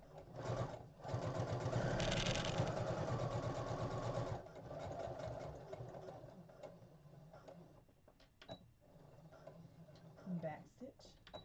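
Sewing machine stitching a fabric Valentine envelope, a steady fast whirring run for a few seconds, then shorter stop-start bursts and clicks, close, with someone talking over it.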